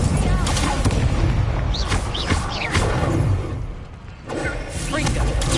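The Incendio fire spell is cast in Hogwarts Legacy, bursting out as loud, dense whooshes and booming blasts that fill the space continuously. Other game effects and music sit underneath.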